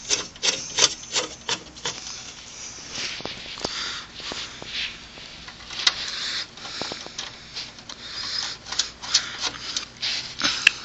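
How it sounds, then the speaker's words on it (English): Metal thumb screws are turned back into a NAS case, giving close, soft scraping and ticking sounds with a few sharper clicks spread across the stretch. "Let's put our thumb screws back in."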